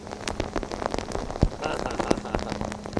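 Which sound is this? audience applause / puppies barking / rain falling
rain falling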